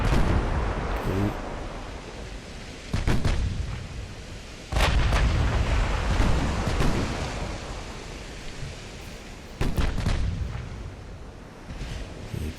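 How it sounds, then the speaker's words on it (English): Battleship 16-inch main guns firing at a cruiser in the naval video game Ultimate Admiral: Dreadnoughts, with several heavy booming salvos spaced a few seconds apart over a constant roaring background of sea and battle noise. "The main guns are shooting at a cruiser."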